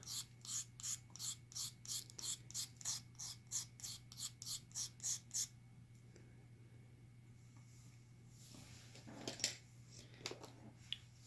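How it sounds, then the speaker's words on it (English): Chalk pastel stick scraped to shave off loose color: about seventeen quick, evenly spaced rasping strokes up close, then a pause with a few softer scratches and rubbing sounds over a steady low hum. "I have the chalk pastels. I've had this set forever. And I just scrape off some color."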